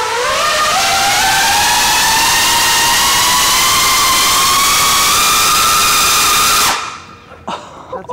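An electric paramotor driven by 50 ducted fans roars very loud and close in a piercing, rising whine that holds steady for several seconds, then cuts off abruptly, leaving faint rustling.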